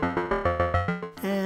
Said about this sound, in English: this arpeggio that I made on the Mother 32